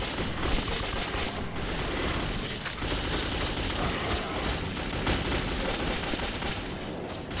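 Rapid, sustained gunfire in the shooter Metro 2033, bursts of shots and booms packed together over several seconds, loud and close, with no talk.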